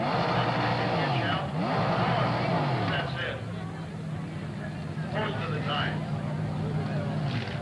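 Race cars roar around the oval at Princeton Speedway during a 1986 Sunday night program, engine notes rising and falling continuously as cars pass, with crowd babble and a loud, steady din throughout.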